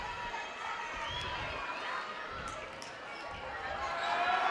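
A crowd in a high school basketball gym, Hereford versus Borger, during a free throw late in a close game. The steady murmur of spectators rises toward the end, with voices mixed in.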